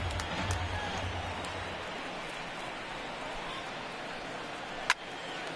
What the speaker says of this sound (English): Crowd goes wild as you see a double strike here.